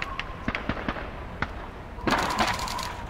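Video game gunfire from Call of Duty 2 as teddy bear targets are shot: sharp, loud cracks spaced irregularly across the first half, then a denser burst of shots with ringing tail near the end, no talk.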